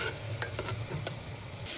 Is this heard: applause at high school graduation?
no